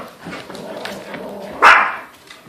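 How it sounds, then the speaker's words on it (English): A few dogs bark at a squirrel outdoors, with one sharp, loud bark near the end over a faint background of quieter yips. "What are you guys barking at?"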